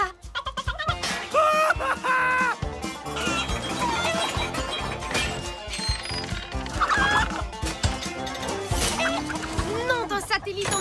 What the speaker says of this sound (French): Ce n'est plus une, mais 3 poules qu'on a en cavale.